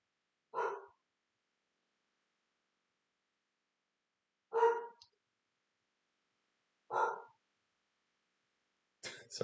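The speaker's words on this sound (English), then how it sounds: "Sorry, that's my dog." A dog barks four times in short, separate bursts spaced a few seconds apart, moderately close, with quiet stillness between them.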